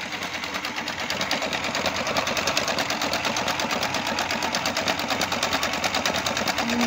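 An Electrolux 990S electronic sewing machine runs at its longest 4.5 stitch length, a loud, steady, rapid mechanical chatter continuing evenly from start to finish.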